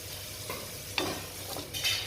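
Radish pieces fry over a low flame in a pan for kurma, a soft sizzle broken by several quick stirring scrapes, close and fairly quiet.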